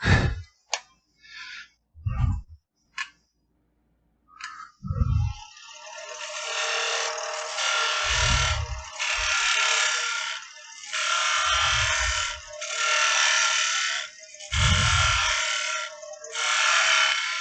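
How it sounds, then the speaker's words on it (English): A spindle gouge cuts glue off turned wood on a spinning lathe: short, sharp, rasping cuts at first, then longer steady hissing passes with brief gaps, near and loud, broken by low thumps. "So I'm going to touch that with my sharper spindle gouge that I can get up in there real quick."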